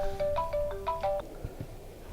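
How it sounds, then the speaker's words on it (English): A mobile phone rings outdoors during a snowstorm walk by a lake and park, a short electronic melody of repeated bright tones lasting about a second, then fading into low wind rumble. "That noise you heard was my phone."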